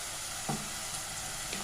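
Onion frying in a mix of olive oil and table oil, an even close sizzle with a couple of brief stirring knocks, no talk.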